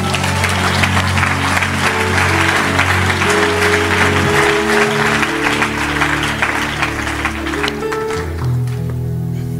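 A church congregation breaks into loud, sustained applause and cheering, dense clapping over a crowd roar with instrumental tones underneath, lasting nearly ten seconds before thinning out.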